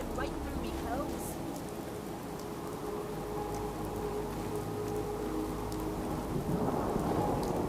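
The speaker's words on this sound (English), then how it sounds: "Damn rain is soaking right through me clothes." Steady rain pours in a Fallout 4 thunderstorm, a dense hiss that lasts throughout, with low rumbling thunder rolling beneath it and no voices.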